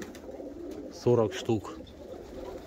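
Pigeons coo in a pigeon loft with an aviary, giving two short, close throaty coos. Someone speaks in Russian in the background.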